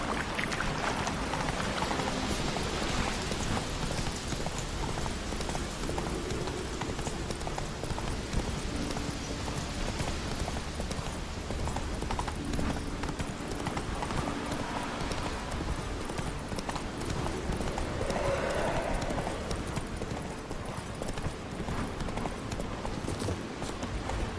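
Roach, a horse in The Witcher 3 video game, gallops with a steady clip-clop of hooves that runs throughout, close and even in loudness, over a continuous game ambience.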